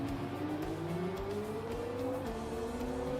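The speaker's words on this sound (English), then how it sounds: "I hear the car, but it's barely there." A race car engine in the racing video game Rennsport hums continuously, its pitch sliding slowly upward as it revs, steady and moderately loud with no talking.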